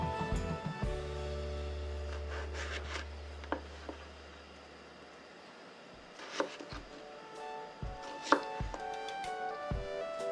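Several sharp knife strikes against a cutting board while cutting radish and carrot into bite-size pieces, scattered and irregular, close and crisp, with a low hum fading out early on.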